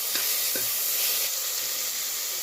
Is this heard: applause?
no